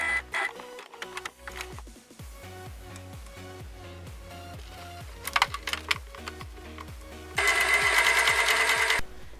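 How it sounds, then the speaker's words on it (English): A sewing machine stitches jumper fabric in fast repetitive bursts with brief pauses, close and clear, ending in a sustained high whirring run without talk. "it requires a bit of manipulation while sewing"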